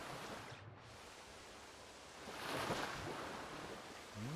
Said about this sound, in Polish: Aha, czyli to jest wodospad.